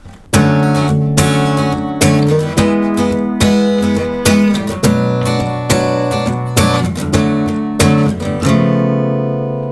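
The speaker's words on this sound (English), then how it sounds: "So the second half of the second chorus chord progression will sound like this." A sequence of strummed acoustic guitar chords, each struck firmly and left ringing, changing every second or so at a steady, even pace.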